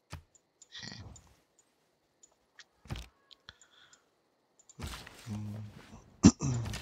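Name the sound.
cough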